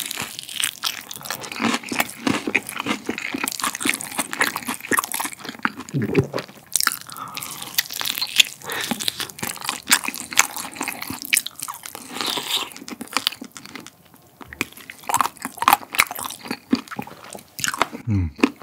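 Zero-sugar seasoned fried chicken being bitten and chewed up close, with steady crisp crunches and wet chewing sounds repeating throughout, loud and continuous, with no talking.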